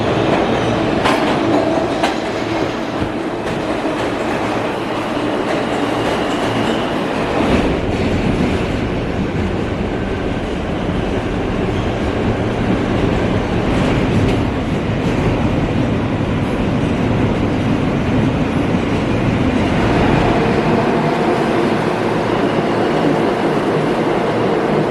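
A New York City subway R train riding along the tracks, with a steady loud rumble, rhythmic clickety-clack of the wheels and occasional squeals and rattles throughout, heard from inside the car with no talking.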